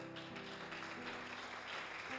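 Church congregation clapping hands together over a sustained musical drone, steady dense clapping that sounds somewhat distant and soft throughout.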